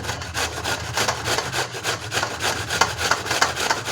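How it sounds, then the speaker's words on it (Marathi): Raw green mango is grated for a jaggery gulamba preserve. The grating makes close, steady back-and-forth rasping strokes in an even rhythm with no talk. "आता मी ह्या दोन्ही कैरी किसून घेते"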